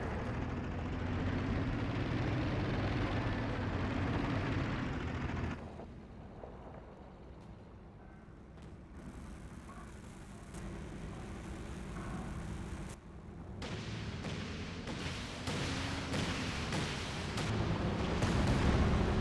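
A rocket artillery barrage in Company of Heroes 2 rumbles as a heavy, continuous wash of distant blasts. It dips briefly, then swells again, with scattered sharper impacts breaking through.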